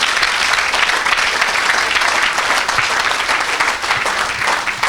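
A church congregation applauds steadily, a dense and continuous wash of many hands clapping at full volume from start to finish, with no distinct voices standing out.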